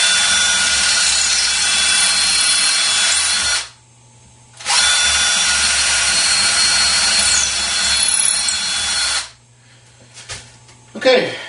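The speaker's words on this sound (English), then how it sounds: "go ahead and drill through the mounting holes all the way through the skull plate" A power drill with a 1/8-inch bit bores through the mounting holes of a deer antler kit's skull plate, two loud sustained whining runs separated by a brief pause, followed by quieter handling clatter.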